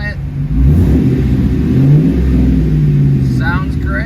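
A 2002 Ford Mustang GT V8 on a test drive after a cracked PCV hose repair, running with a steady low rumble and rising revs, loud and close throughout, with a voice speaking over it.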